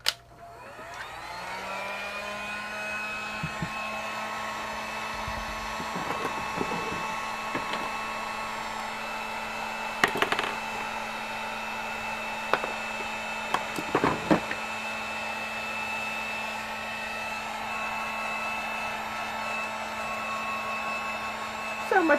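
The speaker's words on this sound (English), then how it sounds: "Heat gun." A heat gun blows steadily while drying ink on a piece of pink breast-cancer awareness artwork, giving a constant close whirring hiss with a few clicks and knocks over it.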